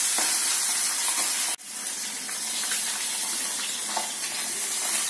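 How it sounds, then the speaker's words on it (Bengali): Pabda fish frying in a little oil in a pan, a loud, close, continuous sizzle with a sharp brief cut near the start, then steady crackling hiss, no voices. "আজ আমি মাছটা ভেজে নেব।"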